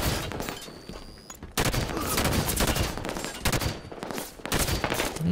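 Gunfire in Halo 5: Guardians SWAT mode, with repeated sharp bursts of rapid shots in loud clusters separated by short pauses, close and dominant.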